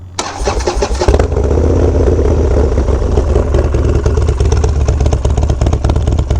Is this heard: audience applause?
no